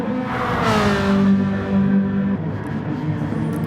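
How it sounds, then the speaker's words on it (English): A Ferrari 458 race car in GT Sport drives past nearby during an online race, its engine droning loud and steady with a rising, then falling pitch as it passes. "I can hear a car in front of him"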